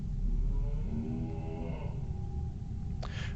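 A cow moos in the horror video game It Moves, a long, low, wavering bellow that fills the first two seconds loudly, followed by a steady tone and a brief burst of noise near the end.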